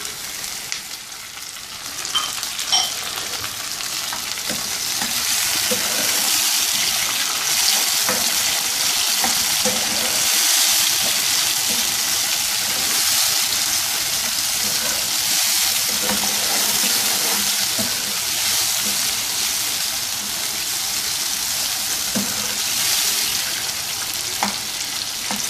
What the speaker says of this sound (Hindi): ये अनियन को हल्का सा सौते करके अब इसमें हम ये स्लाइस टमाटो शामिल करेंगे।